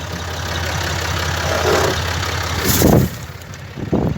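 A Massey Ferguson 240S tractor engine drones steadily at idle while spreading fertilizer over crops, a close, continuous low rumble with a few clunks and rattles toward the end.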